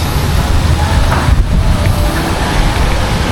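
Strong wind in Camana Bay roars steadily against the microphone, a dense low rumble that never lets up, with no voices clearly heard.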